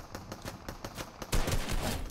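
Shotgun blasts in the Fortnite video game: a quick run of sharp, evenly spaced shots, then a louder, denser cluster of firing near the end.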